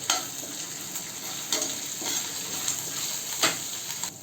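Chili flakes, green chili and grated ginger frying in oil for potato 65, a soft continuous sizzle broken by several scraping stirs of a spoon in the pan, with no voices.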